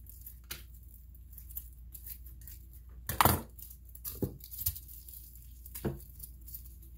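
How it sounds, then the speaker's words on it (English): Scissors snip through oregano roots in a handful of sharp, separate cuts spaced irregularly over a few seconds, close and fairly quiet against a calm background with no talking. "We'll trim the roots."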